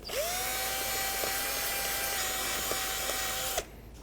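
Bore brush scrubbing the slider bore of a brake caliper bracket on a 2006-12 Ford Fusion, heard as a loud, steady whirring grind with a sustained tone that cuts off sharply near the end.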